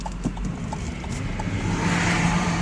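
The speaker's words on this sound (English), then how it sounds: "I'm rolling in the hearse" A hearse drives along with a low engine hum and road rumble inside the cabin, building slightly toward the end, accompanied by a few faint knocks.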